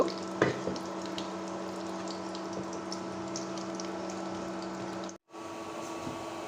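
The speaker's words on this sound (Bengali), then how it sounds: "পেঁয়াজগুলো গোল্ডেন ব্রাউন করে ভেজে নিব" Onions frying in oil until golden brown for a beef and potato curry, a steady close sizzle with a few stirring knocks and a short break near the end.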